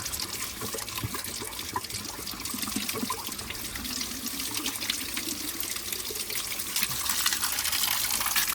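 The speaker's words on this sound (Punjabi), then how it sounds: "ਇਹ ਪਹਾੜਾਂ ਤੋਂ ਪਾਣੀ ਆ ਰਿਹਾ ਸਾਰਾ ਠੰਡਾ ਪਾਣੀ ਬਰਫ਼ ਨਾਲੋਂ ਵੀ ਠੰਡਾ" Icy cold spring water from the mountains pours and gushes steadily in a natural stream beside a hill road, a loud, continuous broadband rush filling the whole stretch without talk.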